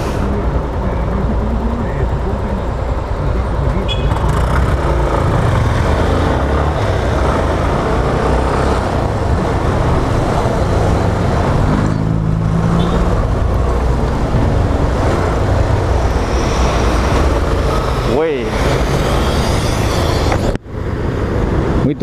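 Steady road traffic on a busy city street, cars passing continuously with broadband rumble throughout, a brief dip near the end; someone talks over it.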